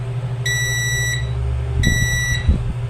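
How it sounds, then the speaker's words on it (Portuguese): A multimeter in continuity mode beeps while probing components on a mobile phone circuit board, hunting for a shorted capacitor. Two steady electronic tones, the first about 0.7 seconds and the second about 0.6 seconds, ring over a low background hum. "Coloquei nesse outro, bipou."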